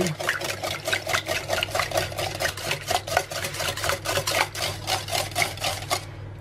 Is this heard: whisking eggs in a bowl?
yes